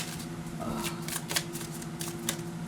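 A tarot deck is shuffled for a reading, a steady riffling flutter of cards with crisp snapping accents, close and continuous for a few seconds, with no one speaking.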